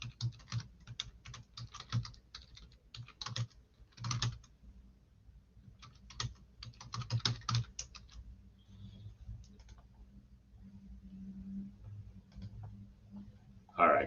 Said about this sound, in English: Let me just type in the box.